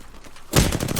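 Rapid automatic gunfire in Apex Legends, a dense burst of shots that starts about halfway through and stays loud and close to the end, after a quieter stretch of game ambience.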